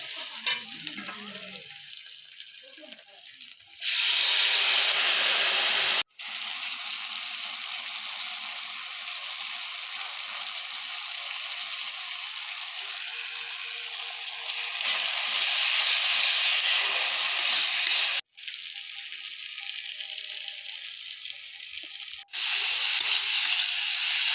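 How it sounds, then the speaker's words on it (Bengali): Lentil fritters (kesari dal bora) being sautéed with spices in a pan give a steady sizzling hiss. The hiss swells louder in stretches and cuts out briefly twice, with no voices. "বড়া সব মশলা দিয়ে কষে নেব"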